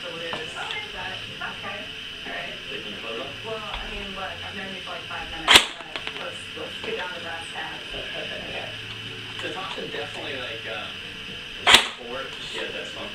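A Star L85A2 airsoft rifle firing 0.20 g BBs, two isolated sharp cracks several seconds apart, with a voice talking quietly throughout.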